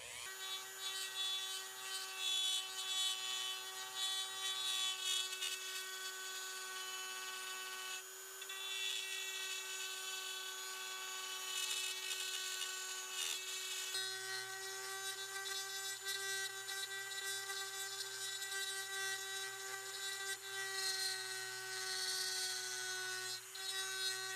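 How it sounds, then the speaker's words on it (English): Dremel rotary tool fitted with a carving and engraving bit, cutting around the outline of a pattern in wood for relief carving; a steady, high-pitched whine runs continuously and close, with slight shifts in pitch as the bit bites and eases. "I have a carving and engraving bit on my Dremel, and I'm just going to begin by going around the outsides of"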